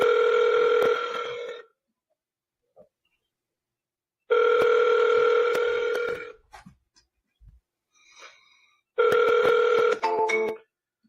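Telephone ringing during repeated outbound calling, three loud electronic rings in bursts of about two seconds separated by silence, with a few faint clicks and small noises between them.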